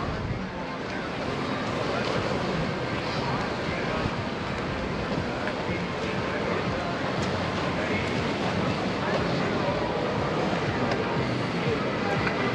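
Sea waves rolling against the central beach embankment under a slightly choppy sea, heard as a steady broadband wash mixed with wind noise at moderate distance, with a voice speaking over it.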